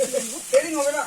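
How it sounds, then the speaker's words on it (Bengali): Small snails dry-frying in a pan without oil for a village-style recipe, giving a close, steady sizzle with brief louder crackles across a short stretch. "তেল ছাড়াই ভাজতে লাগে প্রথমে, তারপর ভিজা চিরাটা দিবে।"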